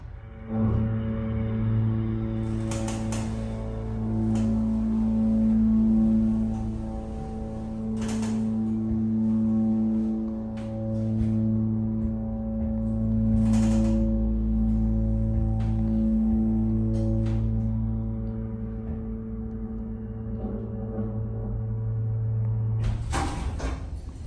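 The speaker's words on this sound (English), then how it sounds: "we're gonna go listen to this motor" A vintage Dover hydraulic elevator motor hums steadily and loudly for a long stretch, with a low drone and periodic swells, interrupted by occasional clicks and clunks of relays and door mechanisms.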